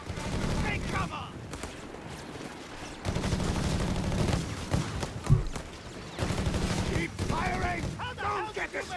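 Commandos fire weapons in the strategy game Company of Heroes 3, with a dense fusillade of small-arms and machine-gun fire in rapid bursts under a battlefield din, while a voice talks over it.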